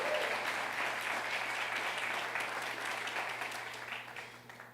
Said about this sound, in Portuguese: Uma salva de palmas para elas, por gentileza.